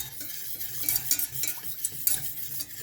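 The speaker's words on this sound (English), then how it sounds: "You're basically whisking all of that up." Ceremonial cacao whisked briskly in a vessel, a steady scraping swish with quick repeated strokes, close and fairly loud, with no talking.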